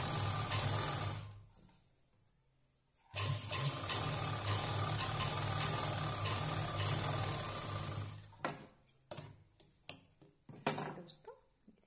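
A sewing machine stitches a small child's winter cap, running in two steady bursts with a pause between them, then several short taps and clicks as the machine stops.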